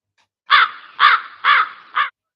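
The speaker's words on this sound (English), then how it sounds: "I must miss that crow." A crow caws four times in a steady series, loud and close, each call harsh and evenly spaced with brief pauses between, and no voices over it.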